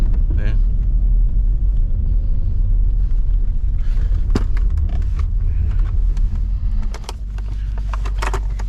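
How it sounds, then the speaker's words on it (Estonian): An Audi S4 B6 with a V8 drifting on an ice track, its engine rumbling loud and close from inside the car, with clicks and knocks in the cabin and voices talking over it. "kuidas meie auto teeb drifti"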